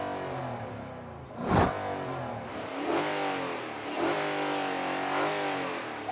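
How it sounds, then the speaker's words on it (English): A 2025 Nissan Patrol V8 engine and exhaust rev up after a sharp blip, then hold a smooth, moderately loud drone with rising and falling harmonics, heard alone without talk. "The exhaust, it doesn't sound that great. It sounds like someone blowing through a straw."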